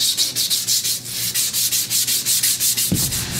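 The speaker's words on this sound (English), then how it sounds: "just going to put a little bit of a polish on the shafts while I'm here" Rhythmic rubbing strokes polish the rusty shafts of a 1979 Toro 826 snowblower, a steady close scrubbing hiss repeating several times per second with a soft thump near the end.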